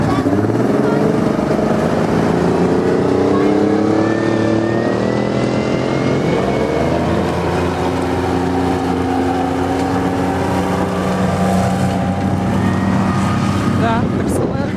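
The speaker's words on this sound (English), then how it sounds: "The vehicles are going to continue around. You'll get to see them all in action in parade." Military vehicles drive past in a parade at a regiment museum, a steady, loud engine drone and rumble with shifting pitch that persists throughout, with people talking beneath it.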